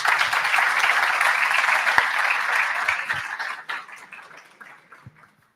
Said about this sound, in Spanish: un aplauso para todos ustedes que duraron aquí todo el día